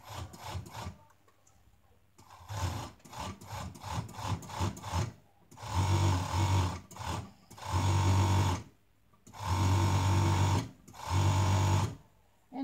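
An overlocker sews and trims a set-in sleeve seam, its rapid mechanical whirring running in several loud bursts of one to two seconds with short pauses, with quieter stitching and talk early on.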